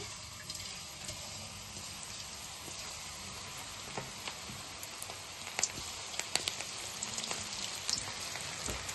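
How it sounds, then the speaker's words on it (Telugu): Cauliflower pieces frying one by one in hot oil in a kadai for gobi fried rice, producing a dense continuous sizzle like rain on a surface, with occasional sharper crackles near the end and no talk. "ఆయిల్ అయితే వేడయింది ఇప్పుడు మనం ఇవి ఒక్కొక్కటిగా వేసుకోవాలి"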